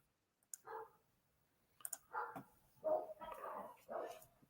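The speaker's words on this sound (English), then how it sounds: "Why is my neighbor's dog going nuts?" A neighbor's dog barks in a quick series of four or five muffled, somewhat distant barks, after a couple of faint clicks, with no talking over them.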